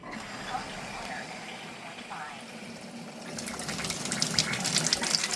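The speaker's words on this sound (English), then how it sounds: "we're just gonna go ahead and turn this water on" Water begins gushing from an Enagic K8 ionizer faucet after a stretch of quieter room noise with some talk, the running flow rising and continuing steadily near the microphone.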